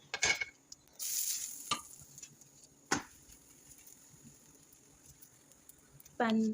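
Paratha flatbread cooks in a pan with a low, quiet sizzle, broken by sharp scraping and clattering stirs, and a louder sizzle burst at the end, while a person talks.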